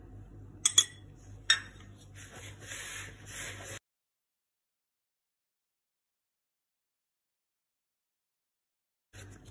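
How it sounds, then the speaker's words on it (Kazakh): A spoon stirs a dough mixture of flour and water in a bowl, making light scraping and a couple of sharp clinks for about four seconds before everything goes silent. "Және әден қасықпен араластырып аламыз екеуін."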